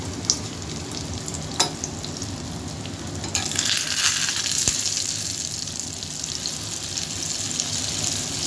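Spanish omelette frying in plenty of oil in a pan, a steady close sizzle with a few sharp clicks of a utensil early on, continuing evenly without talk.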